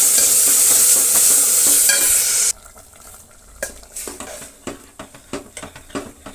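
Fenugreek leaves go into onions frying in a pan: a loud steady sizzle that drops off abruptly, followed by scraping stirs and metallic clinks of a spoon against the pan.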